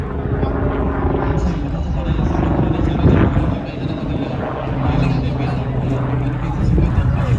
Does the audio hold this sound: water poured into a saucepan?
no